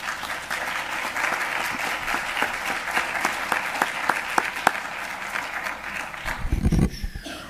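An audience claps for three panel speakers at the close of a housing panel discussion: sustained, dense applause through most of the clip, with a low rumble near the end as it dies down.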